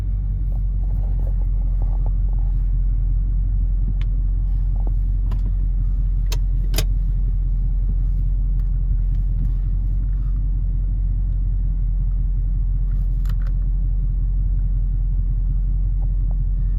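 A 2023 Dodge Challenger idles in first gear with the brake held, giving off a deep, steady engine rumble from close by. A few faint clicks come through over the constant low drone.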